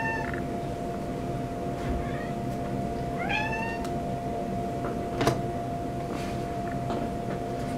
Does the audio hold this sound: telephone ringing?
no